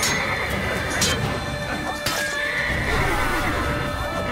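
A horse in the Assassin's Creed video game neighs and whinnies in a couple of loud bursts over a busy game soundscape, with a faint clip-clop of hooves.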